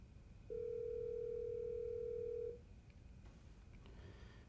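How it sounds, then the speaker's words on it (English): An office desk phone gives one steady, clear electronic tone lasting about two seconds. The tone then stops, leaving a quiet room with faint background hum. "You can also press the Call button and it will dial the phone number in your LCD display."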